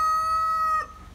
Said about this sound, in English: the rooster's pretty loud